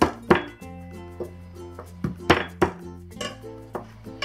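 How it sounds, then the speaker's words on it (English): Fresh ginger with the skin on struck flat with a pat on a kitchen board, a few dull thumps with small clinks of utensils scattered across a quiet moment, close and moderately loud. "the ginger, we just need to crush it. Just give it a good pat."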